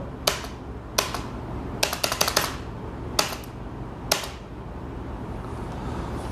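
Enter key on a computer keyboard pressed repeatedly, giving a series of sharp, close clicks in uneven bursts, some as quick doubles and triples, against a quiet room hum.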